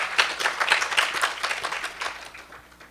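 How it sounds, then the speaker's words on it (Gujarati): Audience clapping for a Swami after a religious discourse, a dense burst of many hands applauding together at close range, steady and lively throughout. "એ બદલ આપણે સ્વામીને એક વખત તાળીઓથી વધાવીએ"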